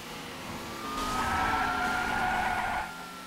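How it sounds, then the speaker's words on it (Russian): Car engine and tire noise from the racing video game L.A. Rush: a steady engine drone swells into a sustained screeching skid for about two seconds, then fades back. "Ну звук капец у машин."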